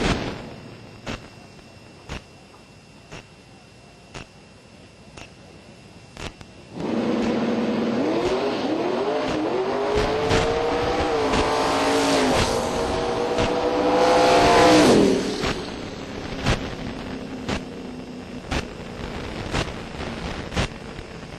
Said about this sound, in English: Josh Gross, the Chevrolet Camaro, going to roll into the left